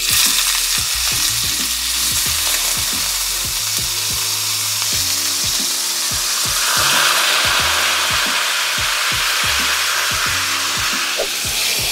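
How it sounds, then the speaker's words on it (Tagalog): Pork shoulder searing in a hot pan, a steady loud sizzle and crackle of frying meat with a few spatters, continuous for the whole stretch with no talking. "Isi-sear lang natin tong pork shoulder guys para makuha natin yung Maillard"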